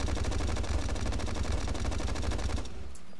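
MR-C rifle from the video game Unturned firing at a pole: a dense, rapid burst of loud automatic gunfire with evenly spaced shots, stopping abruptly near the end to leave a brief ringing tail.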